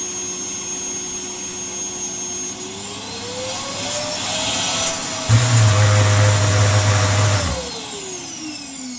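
A Hoover Sonix bagless cylinder vacuum cleaner runs on its minimum setting, giving a steady motor whine that climbs in pitch and then settles, with a louder low droning surge midway before it eases back.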